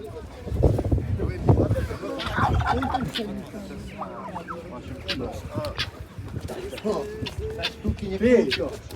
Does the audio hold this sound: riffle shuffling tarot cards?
no